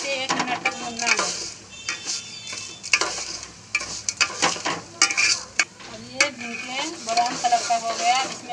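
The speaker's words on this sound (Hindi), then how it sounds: "अब इसे 1 मिनट तक भूनना है।" Vermicelli roasting with dry fruits in a pan for Eid sweet sawai, stirred repeatedly with a spoon: close scraping and clinks against metal over a soft sizzle, in irregular strokes throughout.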